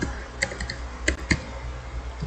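Several scattered key presses on a computer keyboard over a steady low hum, close and moderately loud, with a cluster of clicks in the middle.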